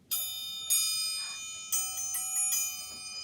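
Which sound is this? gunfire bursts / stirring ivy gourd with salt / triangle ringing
triangle ringing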